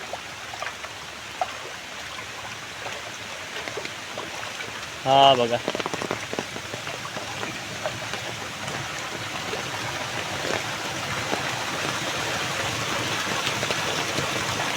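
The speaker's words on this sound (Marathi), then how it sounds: "चला जरा बघूया पाण्याचा झोत कसा पडतोय" Water gushes steadily into a village irrigation channel, a continuous, fairly loud rushing wash that runs the whole time, with a voice speaking briefly near the middle.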